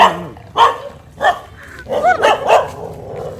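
A dog barks excitedly in a few sharp bursts, close by, with yelping, whiny tones mixed in between the barks.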